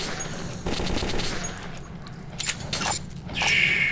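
Rapid bursts of automatic gunfire from the video game Metro 2033, a dense clattering volley that drops briefly and then resumes, loud and close, with no talking over it.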